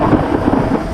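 Thunder from a storm, heard while riding into it on a 72V Razor MX650 Supermoto electric dirt bike, comes as a brief continuous low rumble with some hiss of rain, close and fairly loud.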